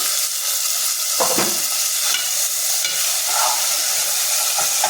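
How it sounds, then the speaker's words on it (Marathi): Onion and tomato sautéing in a pan for a spicy Malvani prawn curry: a steady close sizzle with occasional scraping stir strokes and spatula clinks, no voices. "टोमॅटो सुद्धा व्यवस्थित आपल्याला परतून घ्यायचा आहे।"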